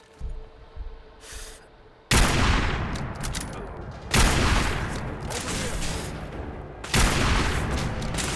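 Heavy bursts of gunfire in Fallout 4 on PS5, loud sustained volleys starting after a quiet lead-in and renewed twice, dense and close with no pauses between the bursts.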